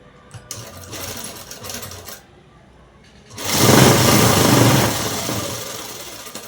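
A sewing machine stitches a narrow folded cloth edge in two runs: a short, quieter whirring burst, a brief pause, then a louder, faster sustained whir close by.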